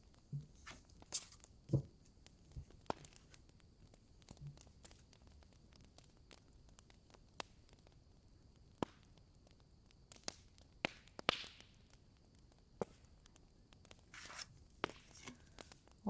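A campfire crackles faintly, with sparse sharp pops and snaps scattered over a quiet background hiss and no voices.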